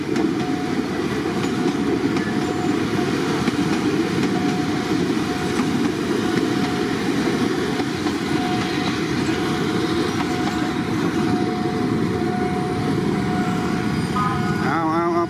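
A train passing over a railway level crossing at Yommarat in Thailand, a loud continuous rumble with rhythmic wheel clatter lasting the whole stretch, and faint voices underneath.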